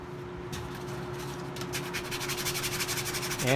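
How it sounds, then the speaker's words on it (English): Hand sanding of a wooden shillelagh with a bowed piece of sandpaper, heard up close as a soft, repeated rasping that speeds into an even back-and-forth rhythm. "And of course, more sanding."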